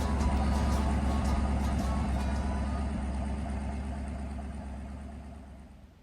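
A 1964 Chevrolet C10 engine idles while warming up outdoors with a steady, low rumble, holding an even tone before gradually fading near the end.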